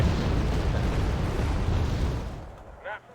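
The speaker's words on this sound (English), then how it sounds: "Rocket artillery." Rocket artillery explosions roar in Wargame: Red Dragon, a loud continuous rumbling barrage that fades out, followed by a brief short burst near the end.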